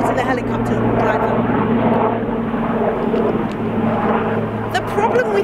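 A steady droning rotor and engine roar fills the clip, with a person talking loudly over the noise.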